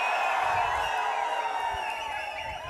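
Crowd cheering and roaring at an ADMK political rally in Srivaikuntam, a dense, steady wash of many voices that stays loud throughout and eases slightly toward the end.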